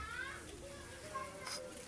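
Children playing outdoors in a windy yard, their distant chatter and calls faint and mixed with wind noise.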